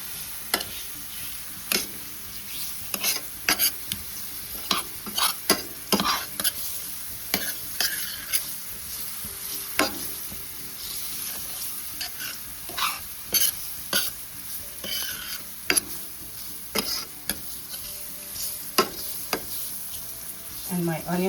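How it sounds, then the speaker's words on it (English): Onions with all-purpose seasoning stirred in a hot frying pan: a continuous sizzle with repeated scraping strokes of the spoon against the pan, close and fairly loud, with no talking. "And I'm going to stir this"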